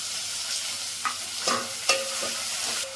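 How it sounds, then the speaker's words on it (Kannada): Chopped tomatoes fry in a hot pan, a steady close sizzle with a few scraping stirs of a spoon breaking through, no voices over it. "ಅದನ್ನು ಕೂಡ ಇವಾಗ ಚೆನ್ನಾಗಿ ಫ್ರೈ ಮಾಡ್ಕೋಬೇಕು"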